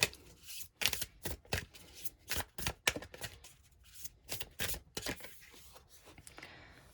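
Deck of cards being shuffled, a quick run of crisp riffling bursts and slaps in an irregular rhythm, close and soft with no talking.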